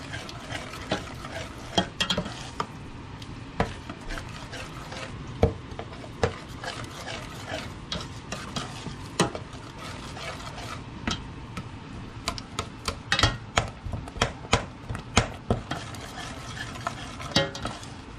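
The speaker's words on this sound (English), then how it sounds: "Just give it a stir." A spoon stirs thick tomato chutney with mustard and sugar in a pan, giving repeated close scrapes and wooden-sounding knocks in an irregular rhythm over a soft sizzle, with no voices.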